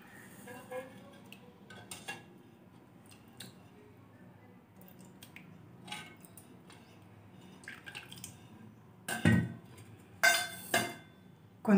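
Thick milk cream is scooped from a pot into a bowl with a spoon, giving soft wet squishes and drips followed by a few sharper metal clinks of spoon against vessel, close and sporadic.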